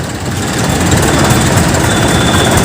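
Farm tractor engines rumble at a farmers' tractor rally in India, a loud, dense, steady drone of several machines close by with no talking.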